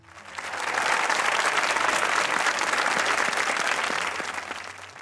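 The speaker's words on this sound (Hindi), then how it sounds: "तशरीफ लाते हैं आपकी भरपूर तालियों में हसन।" Steady applause from a sizable comedy poetry show audience, swelling in quickly and holding strong for several seconds before tapering slightly at the end.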